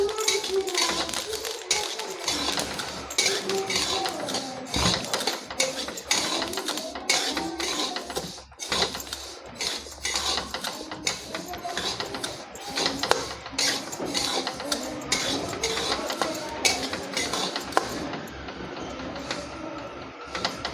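Sesame seeds roast in a pan over a low gas flame while being stirred, making a dense, continuous rattling and scraping with quick irregular clicks that stay fairly loud throughout.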